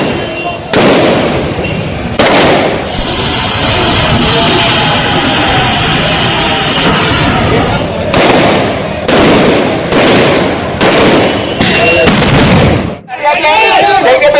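Loud explosive blasts and bangs go off repeatedly in a street during a police crowd-control operation in Kanpur, with bursts and crackling spread across the stretch and shouting voices heard between them.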